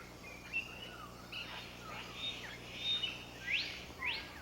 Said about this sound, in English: This is a blue bird of paradise.